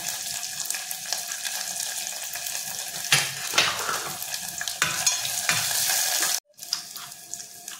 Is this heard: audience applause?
no